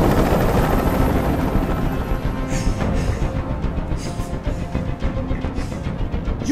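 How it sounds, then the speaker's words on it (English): A helicopter hovers in the Detroit: Become Human video game, its rotor a loud, steady, continuous drone that fills the whole stretch without pause. "Tell that helicopter to get out of here."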